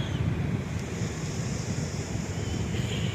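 Wind buffeting the microphone on a warm California beach, a steady rumbling roar with a faint wash of surf behind it, continuous throughout with no talking.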